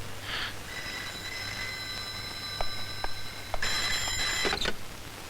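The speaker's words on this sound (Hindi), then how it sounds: "एक मिनट अमर साहब, आपका फोन।" A telephone rings at a police station desk, sounding as a steady electronic tone with short bursts, then a louder, brighter ringing stretch near the end, with no talk over it.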